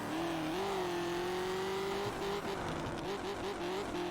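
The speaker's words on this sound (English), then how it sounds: "I just love this car's noise. It's amazing." A racing car engine in the video game Test Drive Unlimited drones steadily at high revs, pitch rising and dipping with gear changes, with faint tire noise underneath.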